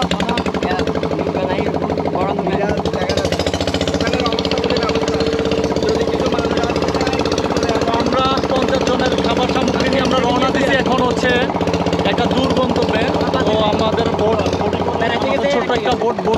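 A motorboat engine drones loud and steady, close by, throughout a flood relief trip, its rough, even rumble unbroken while people talk over it.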